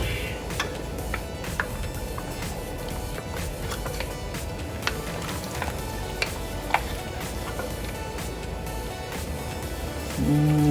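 Mutton curry with curry powder stirred in a pot, a dense continuous sizzle with frequent clicks and scrapes of a utensil against the metal, close and steady throughout with no speech.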